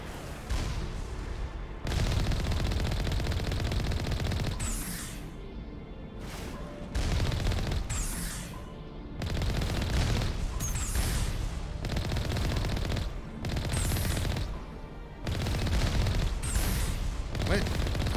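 Bursts of enemy gunfire in the Mass Effect video game, heavy rattling volleys that start and stop repeatedly, loud and dense across the whole stretch, with brief lulls between salvos.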